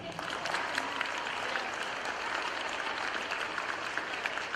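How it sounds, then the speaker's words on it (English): Steady applause from a school award ceremony crowd, dense and continuous throughout, heard from a moderate distance. "they deserve a huge round of applause."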